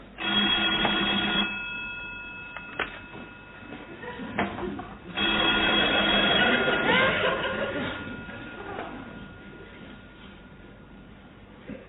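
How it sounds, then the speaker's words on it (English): An office telephone rings in a sitcom, its bell sounding in long bursts separated by pauses, loud and close, with some background voices. "That's the phone."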